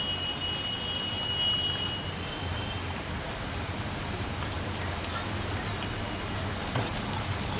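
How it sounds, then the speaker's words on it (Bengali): Heavy rain falls outside as a steady, dense broadband hiss that runs unbroken the whole time, with no talk over it. "বিশাল বৃষ্টি হচ্ছে বাইরে"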